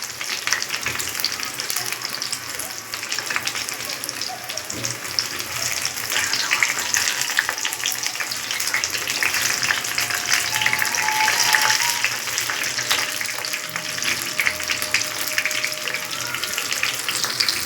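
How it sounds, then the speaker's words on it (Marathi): Egg pakoras fry in hot oil, giving a continuous dense crackling sizzle that holds steady and close throughout with faint kitchen clinks. "आता हे पकोडे आपण तळून घेऊया."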